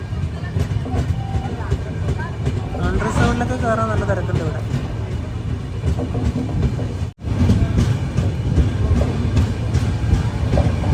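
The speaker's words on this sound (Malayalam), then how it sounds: "7:36 ട്രെയിൻ ഇതാ ആലുവ റെയിൽവേ സ്റ്റേഷനിലേക്ക് എത്തിയിരിക്കുകയാണ്" Millennium Express pulling into Aluva railway station, a steady rumble of the moving train running throughout with a brief dropout, while someone speaks over it and crowd chatter comes through.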